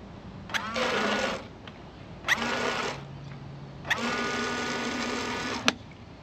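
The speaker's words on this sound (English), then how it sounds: "Now we're just gonna go ahead and power this pump up for a second or two and see what happens." A windshield washer pump powered on test leads runs in three short bursts, each a close, buzzing electric motor whine that starts and stops with a sharp click.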